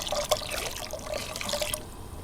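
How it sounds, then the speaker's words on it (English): Hot water with vegetable stock granules pours into a watery butternut squash, sweet potato and coconut milk curry, a steady close splashing trickle with no talk. "now some vegetable stock, and that's to say hot water and vegetable stock granules"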